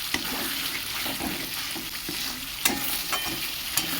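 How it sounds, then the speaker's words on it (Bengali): Spice paste of onion, green chilli, poppy seeds and black cumin frying in oil, a continuous close sizzle with occasional sharp spatula scrapes against the pan. "মশলাটা আমার সুন্দরভাবে ভাজা হয়ে গেছে তেল ছেড়ে এসেছে"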